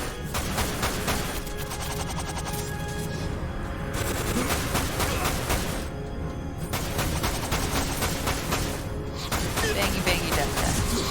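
Gunfire rattles in the Final Fantasy VII Dirge of Cerberus video game, with dense, loud bursts of rapid shots layered over game music and effects, pausing briefly a few times before resuming.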